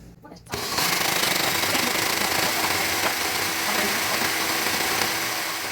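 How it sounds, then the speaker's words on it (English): Blender running on its highest liquefy setting, whipping Dutch baby oven-pancake batter, starts abruptly after a brief quiet moment and holds a loud, steady, dense whirring roar to the end, with no talk over it. "On high, which on this blender it's liquefy"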